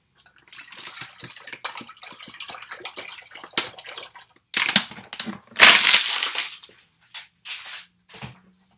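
Water runs from a tap into a cooking pot for boiling potatoes, splashing in uneven bursts of varying loudness with brief clatters and pauses, close by.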